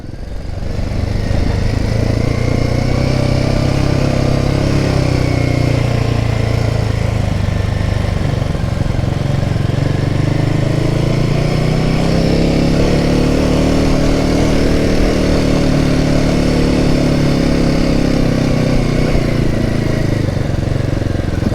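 A manoeuvrable motorcycle with a revvy, torquey engine roars steadily while being ridden, its pitch rising and falling through several revs and gear changes, loud and close throughout with no talk.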